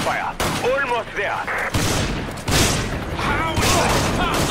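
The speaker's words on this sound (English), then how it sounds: "I can hear gunfire." Loud bursts of gunfire crackle in quick succession in Resident Evil 5, mixed with a voice speaking and electronic game sounds.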